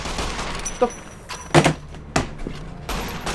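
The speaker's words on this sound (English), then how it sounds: "do you see me shooting to the side?" Gunfire in Fallout New Vegas: several sharp, separate shots at irregular intervals, loud and close, over a low game background.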